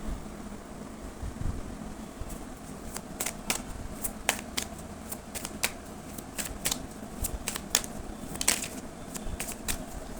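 Tarot cards being shuffled, a steady run of crisp riffling flicks and soft slaps up close over a low hum of room noise.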